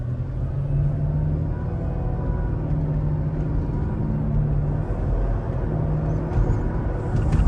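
A 2006 Mercedes SL500 with a coilover conversion and RENNtech tune accelerates, its engine a steady, deep rumble heard from inside the cabin with road noise underneath and no talk.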